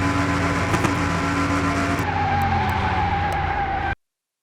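An Evo-like car with a blow-off valve runs flat out at top speed in Car Mechanic Simulator 2021, a loud, sustained engine drone that shifts pitch partway through and then stops abruptly.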